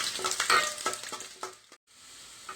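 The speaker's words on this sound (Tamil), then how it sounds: "பூண்டு இது வந்து நல்லா வறுத்துருச்சுங்க" Chopped garlic frying in oil in a pan, with a crisp sizzle and a few stirring scrapes that fade out abruptly, leaving a faint low hiss.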